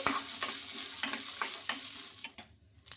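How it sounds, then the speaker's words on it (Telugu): Peanuts, chillies and unpeeled garlic cloves frying in a spoonful of oil in a pan, a soft steady sizzle with repeated scraping stir strokes, fading quieter toward the end. "పొట్టుతో సహా ఒక నాలుగు వెల్లుల్లి రెబ్బలు అలాగే ఒక స్పూన్ ఆయిల్ కూడా వేసుకొని బాగా ఫ్రై చేసుకోవాలి"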